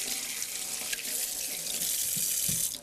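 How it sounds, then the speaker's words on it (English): Tap water runs steadily into a kitchen sink during hand washing, a continuous close rushing stream with small splashes and no talking. "I'll wash my hands."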